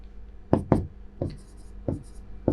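A math expression with factorial terms being written out by hand during a real analysis lesson, heard as a series of sharp, close taps and short strokes spaced irregularly, with no speech.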